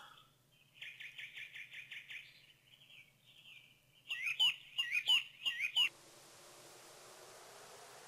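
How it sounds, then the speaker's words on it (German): Owl hooting from the video game King's Quest 3, a short run of close, clear calls repeated in bursts over a faint background hum, with a soft hiss of ambient noise trailing after. "Aha, eine Eule."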